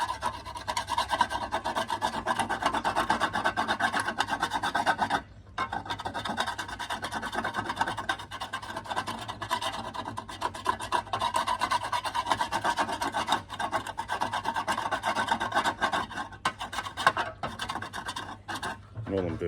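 A screwdriver rubbed up and down on the back of an Allett Stirling lawnmower's bladed cartridge makes a steady, close rasping scrape with one brief pause. Faint talk sits underneath.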